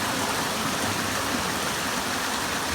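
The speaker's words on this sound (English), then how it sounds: "The waterfall. Oh, look at that." Waterfall in a quiet, pretty spot off the beaten track in Wales, heard as a steady, dense rush of falling water that holds at an even loudness throughout with no talk over it.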